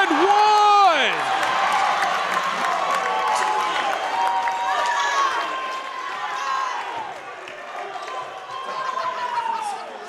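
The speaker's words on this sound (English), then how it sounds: "Crowd going absolutely crazy for Carl Moore Jr." A college basketball crowd cheers and applauds for Carl Moore Jr. after an and-one play, a loud swell that slowly fades, while a commentator talks over it throughout.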